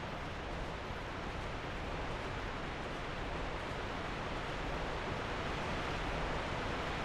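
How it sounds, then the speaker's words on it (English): A loud waterfall in Dark Souls 2 roars as a steady, dense wash of rushing water, unbroken and alone with no other sounds over it. "The waterfall is so loud as well."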